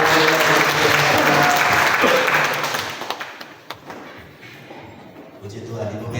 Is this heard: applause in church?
yes